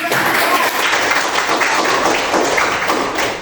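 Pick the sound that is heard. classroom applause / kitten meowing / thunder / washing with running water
classroom applause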